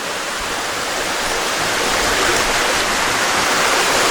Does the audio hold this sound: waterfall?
yes